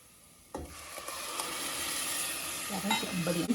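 Tomatoes with ginger garlic paste sauté in a pan: a sizzle bursts in suddenly and carries on steadily, with stirring scrapes growing louder toward the end.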